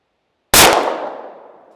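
A rifle shot striking a steel target, a single sharp metallic clang with a bright ringing tail that fades over about a second, loud and alone after silence.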